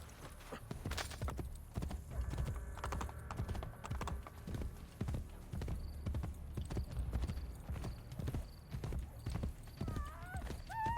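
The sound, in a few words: horse galloping in Assassin's Creed Brotherhood, video game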